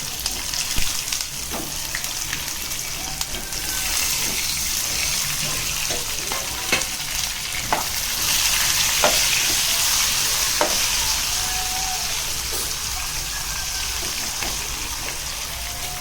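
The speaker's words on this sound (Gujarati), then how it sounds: "હવે આપણે આને આ સીંગો બધી અંદર કરી દઈએ" Drumsticks (saragva) and a few mint leaves are stirred in hot oil for Kathiyawadi saragva shaak, with a continuous close sizzle broken by repeated scraping and clanking stirs, and no talking.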